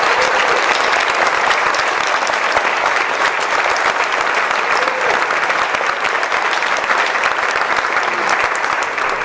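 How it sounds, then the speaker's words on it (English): An audience applauds advisory board members and directors at a women's organization event, a dense, steady wash of many hands clapping at full volume throughout, close and continuous with no voices standing out. "And let's give them a clap."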